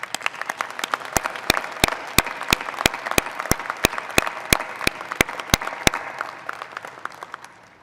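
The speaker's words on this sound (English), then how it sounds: "Would you all join me in a round of applause for our outstanding faculty?" Commencement audience applauds the faculty, a soft wash of crowd clapping topped by one loud nearby pair of hands beating a steady, evenly spaced rhythm for about six seconds before the clapping fades out.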